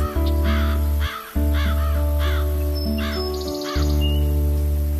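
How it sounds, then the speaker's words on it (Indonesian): Several loud, repeated caws from a nearby crow ring out in steady bursts over a constant low electrical hum, with no voices. "Wah, Ita, lihat burung itu."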